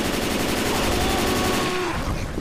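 Sustained rapid automatic gunfire blasting at a Charger in the Left 4 Dead 2 video game, a dense, loud, continuous burst that cuts off near the end with no voices over it.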